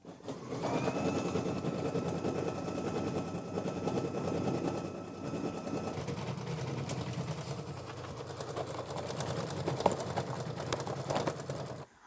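A sewing machine quilting a small mini quilt, running in a steady continuous whir at close range throughout, with faint clicks and slight changes in speed.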